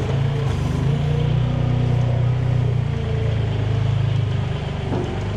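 A farm vehicle crossing a field where the ground may still be wet beneath, its engine a steady, loud, low rumble that runs without a break throughout.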